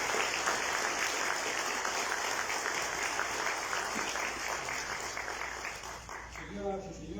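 Warm, steady applause for a book's author at a book presentation, a thick continuous patter of many hands clapping, fading slightly toward the end as a voice comes in.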